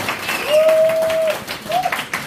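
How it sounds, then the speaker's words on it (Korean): Applause from attendees at a closing session of a national branch leaders' training gathering, a blur of clapping with a sustained tone, likely a held note or feedback, running through the middle and a short rising tone near the end. "다시 한번 박수 한번 부탁드립니다"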